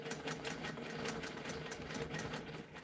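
A sewing machine stitching around fabric applique, a fast steady whir of needle strokes with a faint motor hum, close and quiet, no talking.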